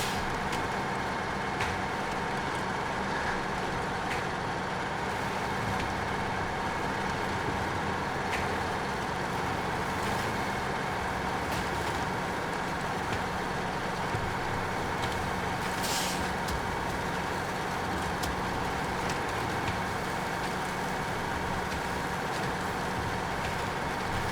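SnowRunner truck hauling a trailer, a constant loud engine drone with occasional sharp air brake hisses and clanks, continuous and close with no talking.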